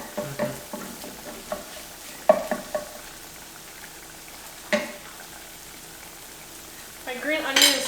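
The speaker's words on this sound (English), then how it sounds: "I'm kind of letting my chives cook because I want them to have that flavor." Chives frying in a pan while a Chinese dish is cooked, giving a soft low sizzle with scattered stirring clatters and utensil taps against the pan, fairly close and with no talk.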